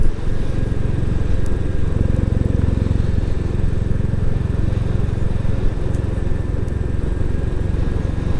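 A Royal Enfield Classic 350 single-cylinder motorcycle ridden briskly around the Olivers Mount race circuit, a loud, close, steady engine thrum with wind buffeting throughout and no voices.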